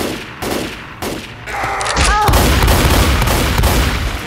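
Rapid bursts of Minecraft-style video game gunfire, a double shot with booming thuds and a short rising blip, loud and close over constant game noise.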